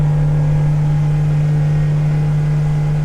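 A Yamaha 90 outboard on a 2012 Hewescraft Sportsman 200 runs steadily at 4,300 RPM with the boat on plane, giving a constant loud droning hum with a strong low tone and no change in pitch.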